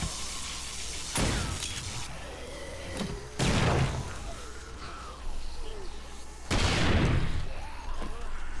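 Grenade blasts in the zombie survival game 7 Days to Die, Alpha 19: three loud, broadband booms spaced a couple of seconds apart, each followed by rumbling debris, over a continuous low drone.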